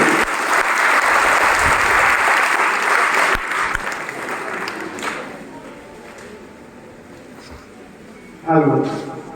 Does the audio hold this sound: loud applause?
yes